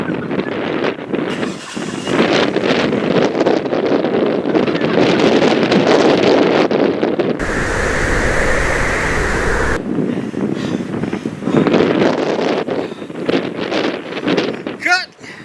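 Strong wind buffets the microphone outdoors beside a Corvette, loud rumbling gusts with rustling that rise and fall throughout, briefly replaced by a steady hiss in the middle; people speak under the wind.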